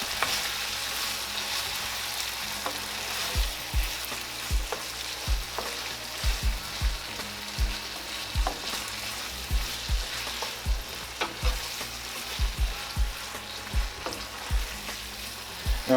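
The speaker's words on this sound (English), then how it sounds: "let this simmer on low for about maybe a minute to 2 minutes" Turkey teriyaki with onion bubbles and simmers low in a pan, a steady close sizzle broken by frequent soft clicks and pops from spoon stirring, with no talking.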